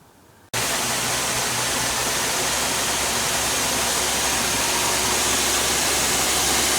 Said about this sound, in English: that's the engine running from absolutely cold, and it sounds really smooth